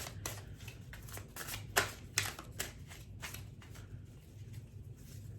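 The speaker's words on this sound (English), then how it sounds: "I normally do not show myself shuffling these cards" Close, crisp riffling of a deck of cards being shuffled, repeated bursts of flicking and snapping over a quiet background.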